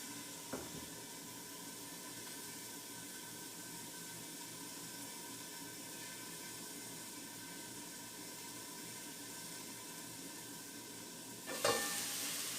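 Beef negimaki rolls sizzle steadily in a hot pan, a continuous dense hiss with a couple of brief knocks at the start and near the end.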